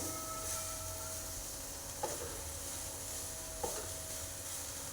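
A mixture of melted jaggery and fresh coconut cooks in a pan over low flame, with a faint steady sizzle, a constant background hum and two soft scraping stirs.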